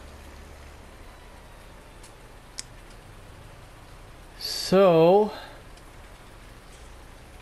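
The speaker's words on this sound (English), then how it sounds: "we are waiting for the rain to quit" Steady rain falls in Farming Simulator 19 (Seasons mod) as an even, continuous hiss throughout, broken midway by a brief rising-and-falling whistled tone, with a voice speaking briefly.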